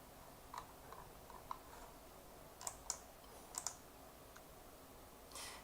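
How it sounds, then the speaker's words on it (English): Someone types on a computer keyboard during a trading webinar, producing faint, sparse clicks and small clusters of keystrokes at irregular intervals, quiet and distant against a low background hiss, with no talking. "And somebody's typing, Passion"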